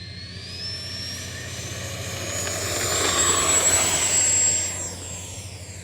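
A Freewing F-22 Raptor model jet with 70mm electric ducted fans takes off, a steady high-pitched whine rising and swelling louder mid-way before easing slightly, heard alone with no talking.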